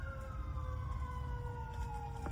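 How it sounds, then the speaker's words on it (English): Emergency sirens wail steadily in the background, a sustained, slowly falling tone over low rumbling traffic noise. The sound is moderately faint and has no talk over it. "Y'all hear all those sirens going off in the back?"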